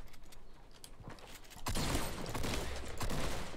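Gunfire in Fortnite Battle Royale: light rapid shots at first, then a louder dense burst of fire from about halfway on, with a busy, rumbling background.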